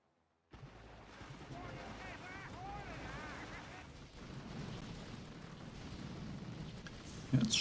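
Heavy Mech Bombardier weapon firing during the Gunboat Crab fight in a video game, dense booming blasts and rumbling impacts rolling continuously over several seconds amid chaotic battle noise.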